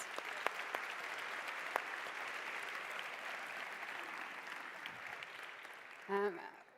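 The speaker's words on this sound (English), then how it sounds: "give yourself a round of applause" A conference audience applauds itself in a large hall, a steady wash of clapping with a few sharp claps near the start, fading slightly before a brief voice breaks in at the end.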